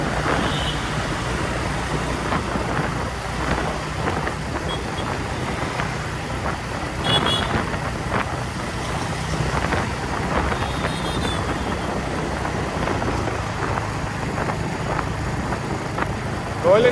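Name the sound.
Royal Enfield Hunter 350 motorcycle cruising in fifth gear, Dhaka traffic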